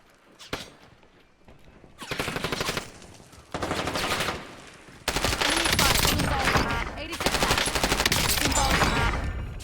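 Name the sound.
gunshots in Warzone video game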